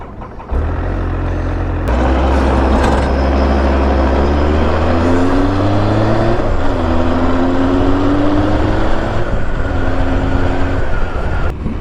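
A 1997 Triumph Speed Triple T509 ridden on the road, its well-aged engine with a hard clutch drones loud and steady, with rising tones as it pulls through the gears and a rough, broken-sounding edge, heavy wind roar throughout.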